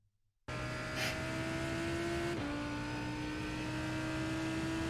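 A Lamborghini Huracan GT3 Evo engine drones on throttle in a racing game, one loud steady tone that drops slightly midway, as if on a shift or a lift, then holds. It follows a brief near-silence.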